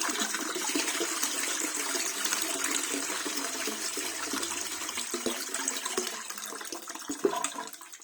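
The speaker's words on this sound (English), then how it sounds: "first give it a flush." A toilet flushing with a steady, close rush of water that gushes for several seconds, swelling slightly near the end, with no talking.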